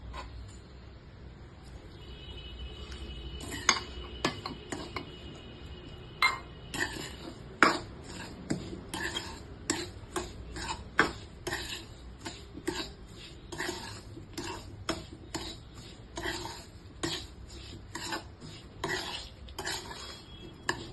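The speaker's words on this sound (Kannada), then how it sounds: "ಈಗ ಇದನ್ನು ನೋಡಿಕೊಂಡು ಸ್ವಲ್ಪನೇ ಹಾಲು ಹಾಕ್ಕೊಂಡು ಮಿಕ್ಸ್ ಮಾಡ್ಕೊಳ್ಳೋಣ." Warm milk being stirred into a rava laddu mixture with a metal spoon, giving a long run of close, sharp clinks and scrapes against the vessel at an irregular, fairly quick rhythm, with no voices.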